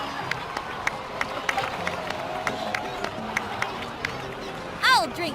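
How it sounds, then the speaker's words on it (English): A Genshin Impact crowd applauds, clapping and cheering together in a steady dense patter with a few sharper claps, followed by a brief rising chime at the end. "please give another round of applause for them"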